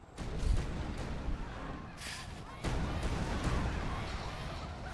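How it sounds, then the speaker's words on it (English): Flame cannon fire in the real-time strategy game Rise of the Reds comes as heavy booming bursts and a sustained roaring rumble, with a sharp onset midway, loud and up close. "Oh, that flame cannon!"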